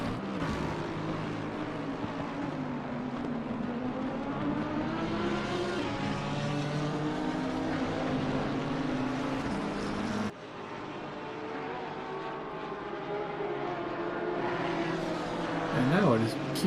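Lamborghini race car engine in the racing game Assetto Corsa Competizione at Silverstone, a steady loud engine drone with rising and falling revs throughout, briefly dipping midway, with talk over it.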